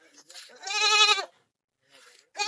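A goat bleats loudly and close by: a long wavering bleat, a brief pause, then the start of another, with faint voices at the edges.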